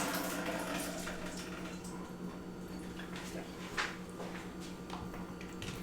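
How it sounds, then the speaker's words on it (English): Water running and trickling out of a container of tofu as it drains in a home kitchen, a steady close splashing wash with a few brief sharper drips and clunks, no talking. "Let me drain this."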